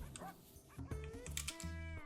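Dogs barking in the video game RimWorld, several short sharp yips and barks in quick succession over a steady background hum, moderately loud and close.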